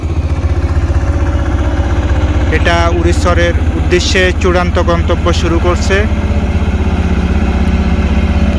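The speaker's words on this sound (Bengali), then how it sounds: "এই যে আরেকটি ট্রলার" A trawler boat engine at a river ghat near Char Elahi on the way to Urir Char hums and chugs steadily and loudly throughout, while someone speaks over it in the middle.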